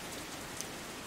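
Rain in a visual novel video game falls as a faint, steady hiss of drops with no other sound.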